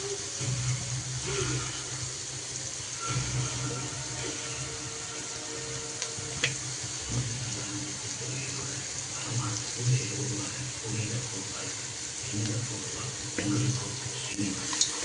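Onions and a few mutton bones sautéing in a pan for Tamil mutton kuzhambu, a steady close crackling sizzle running throughout with small clinks and stirring scrapes over it.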